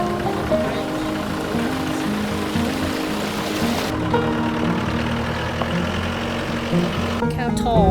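A tall waterfall in Colombia gives a continuous broadband rush of falling water, loud and steady, under people talking.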